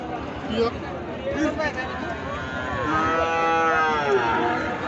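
Sahiwal bulls moo at the busy Ambari rural cattle market, one long low moo rising and falling in the second half, over crowd chatter and someone talking nearby.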